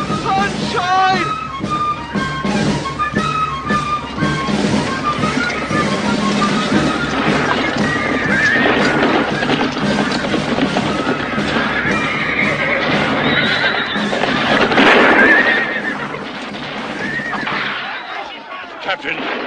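Horses in a western film battle scene neighing and whinnying repeatedly amid hoofbeats and crashing commotion, loud and chaotic, with voices shouting over the din.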